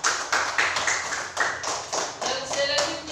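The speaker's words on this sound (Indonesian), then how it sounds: "Tepuk tangan untuk kelompok 3." Students in a classroom applaud a presenting group with a quick, evenly spaced run of claps at moderate volume, alone and without talk.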